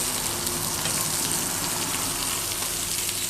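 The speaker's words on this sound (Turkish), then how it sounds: "Sos pişiyor." A spiced sauce sizzles steadily in a pan for a toast filling, a loud, dense, continuous frying hiss with no pauses.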